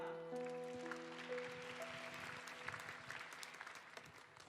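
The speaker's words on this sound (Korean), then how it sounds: "우리 큰 박수로 이 시간 맞이하겠습니다" A church congregation at a Korean youth worship service applauds, a steady wash of clapping heard faintly at a distance, while sustained organ or keyboard chords ring underneath.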